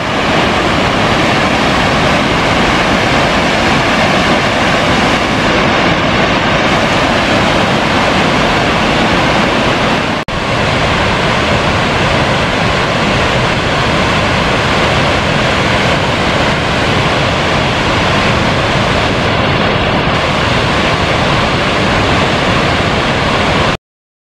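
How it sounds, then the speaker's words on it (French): A mountain waterfall cascading near a high Alpine trail by a glacier, a loud, steady, unbroken roar of rushing water that fills the whole stretch with no voices over it. "Ah, une sacrée cascade"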